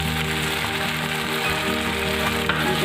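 Spices and ginger-garlic paste fry in hot oil for a chicken and fish curry, a close, continuous crackling sizzle with faint stirring scrapes.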